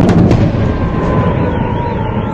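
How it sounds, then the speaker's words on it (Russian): Explosions in the city of Belgorod, with fuel tanks hit and fires burning in several places: a loud, continuous, rumbling roar that opens with a few sharp bursts. No voices. "в Белгороде что-то громко взрывается, пылает в нескольких местах"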